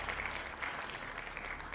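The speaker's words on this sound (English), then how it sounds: "the clapping is this app" Applause plays from a phone app as a steady patter of many hands clapping, moderately loud and unbroken for the short stretch.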